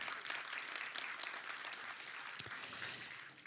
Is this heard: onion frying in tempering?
no